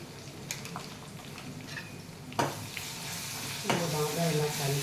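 Ingredients for bagara rice are stirred and mixed in a hot pan, with a scraping spoon, soft sizzling and a few sharper clatters against the pan's sides, close by under a steady frying hiss.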